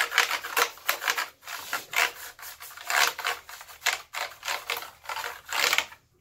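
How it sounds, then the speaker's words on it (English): Brush swept across the keys of a mechanical keyboard during cleaning, Corsair, Microsoft or Logitech: rough, rasping scrubbing strokes in easy repeated swings, close and fairly quiet, with brief pauses between passes and no talking. "I know the keys sound a little rough"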